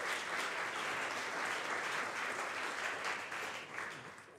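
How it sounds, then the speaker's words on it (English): Audience applause fills a demo day pitch event, a dense, steady wash of clapping from a sizable crowd that holds for several seconds and begins tapering near the end. "A big round of applause."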